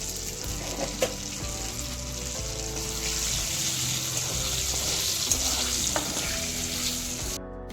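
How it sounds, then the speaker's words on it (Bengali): Whole garam masala of cloves, cardamom and cinnamon, along with dried chillies and cumin, crackles and sizzles in hot oil. A continuous close frying hiss carries a few sharp pops and light stirring, with no speech. "লবঙ্গ এলাচ দারুচিনি গোটা গরম মশলা মশলা ভালো মতন ভেজে নিচ্ছি"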